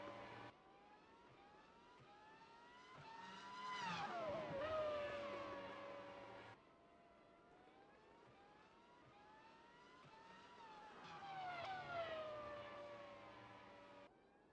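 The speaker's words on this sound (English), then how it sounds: "And with cars going vroom vroom on the background" Racing cars in an F1 racing game scream past on the Hungarian GP circuit, two rising and falling engine whines that swell loud and then fade, over a quiet hum.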